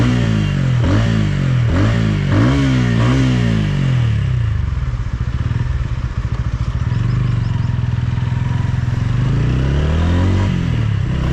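A TVS Ronin motorcycle rides along with the engine revving up through several sharp accelerations, then settling into a steady loud drone before climbing again, heard close with wind and road rumble.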